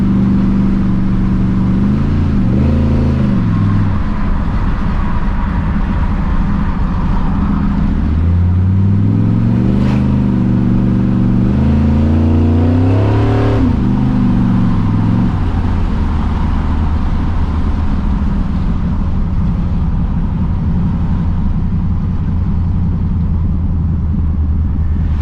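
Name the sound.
1979 Ford F100 with 408 stroker engine driving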